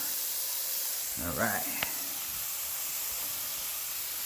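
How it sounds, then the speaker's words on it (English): A steady, bright hiss of bacon frying in a skillet runs throughout, with a brief spoken word and a small clink partway through. "We can hear it sizzle. Oh yeah. Listen to that sizzle."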